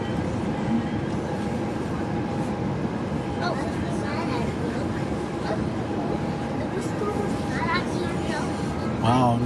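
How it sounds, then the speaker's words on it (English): Freight cars of a model railroad line roll past steadily, with a Wisconsin Central switcher and BNSF cars on hand; a continuous rumble and rattle runs the whole time, with people talking over it. "It's just going to be a line of freight cars for a little while."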